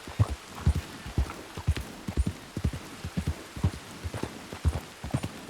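Horse hooves clip-clop steadily in the Red Dead Redemption 2 game, a close, loud, rhythmic series of thudding footfalls at a brisk walking pace with no talk.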